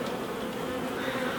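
Honey bees buzzing inside a busy hive with a double brood box, a steady close drone that holds evenly throughout with no talk over it.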